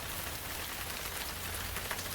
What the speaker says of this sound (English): the rain outside seems to match the rhythm of my thoughts